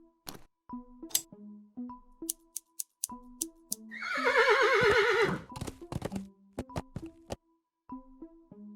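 Horse in a PC adventure game gives a loud, drawn-out whinny lasting about a second and a half, surrounded by repeated game clicks, tones and clip-clop-like hoof sounds before and after.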